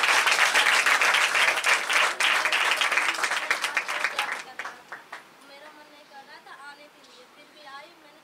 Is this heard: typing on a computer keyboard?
no